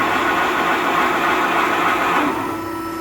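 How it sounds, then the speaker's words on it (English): Gears of a Haco Atlantic shear turn slowly, giving a steady, close growling mechanical hum that holds level for a few seconds and then eases slightly. "And you can hear it's a little growly. That's the function of those gears,"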